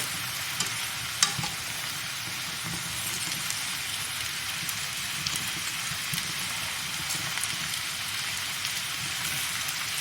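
Fondant potatoes fry in butter that is turning brown, making a continuous soft crackling sizzle like light rain. There are a few sharper pops near the start and no talk.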